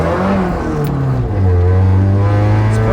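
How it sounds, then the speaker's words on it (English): Loud car exhaust through a tiny single-chamber muffler, droning steadily with a deep, raspy tone, then revving up slightly, close and continuous with no talk. "the exhaust is like dumb loud"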